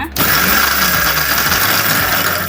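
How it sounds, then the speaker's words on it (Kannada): A mixer grinder churns masala for mango sambar, switching on after a brief pause and then running as a loud, steady, close whirring grind through to the end. "ಈಗ ರುಬ್ಕೊಳ್ಳೋಣ"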